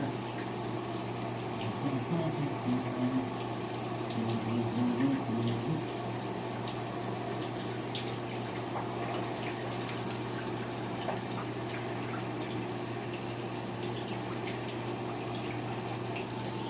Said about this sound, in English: So, give the face a rinse.